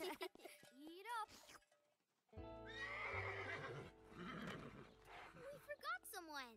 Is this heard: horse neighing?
yes